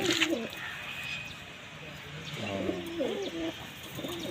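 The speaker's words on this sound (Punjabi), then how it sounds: "ਇਹ ਵਾਲੇ ਉੱਚੀ ਚੜਦੇ ਆ ਨਾ ਕਬੂਤਰ" Pigeons kept by a pigeon fancier coo in low, repeated throaty bursts at the start and again in the second half, with faint background ambience between calls.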